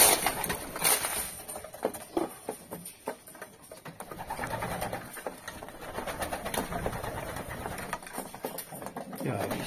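Young summer pigeons coo softly at close range while being fed, with light pattering and rustling in the loft and a voice talking intermittently over them.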